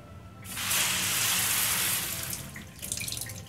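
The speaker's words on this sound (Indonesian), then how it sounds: "Nah, nanti kita siram tanaman." Watering plants in the video game Citampi Stories produces a faucet-like gush of running water that starts abruptly, pours steadily for over a second, then fades into lighter splashes.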